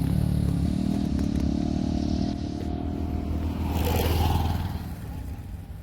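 A motorcycle runs nearby on a rural road beside yellow mustard fields in Haryana, a steady low engine drone that swells slightly toward the end, with some clatter over it.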